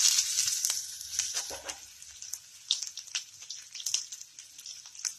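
Cumin seeds and ginger crackle in hot oil in a pan. A quiet, bright sizzle is broken by scattered sharp pops and spits throughout.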